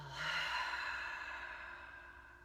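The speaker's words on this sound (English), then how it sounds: "We'll take a nice big inhale and exhale." A deep exhale during a guided breathing exercise, a soft, close breathy rush of air that starts strong and slowly tapers off, heard alone without talk.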